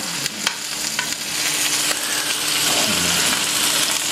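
Butter melts and sizzles in an oiled pan beside a searing steak, giving a loud, steady, close crackle with a few light clicks of stirring and no talk.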